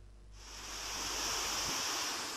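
Rainwater pours over low-level causeways and small check dams after continuous rain in Valsad district, Gujarat, a loud, steady broadband rush that swells in after a quiet opening and then holds without a break.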